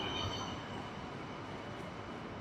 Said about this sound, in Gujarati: જુઓ છે ને જોરદાર, કશું ફાટક વગર ટ્રેન નીકળી ગઈ.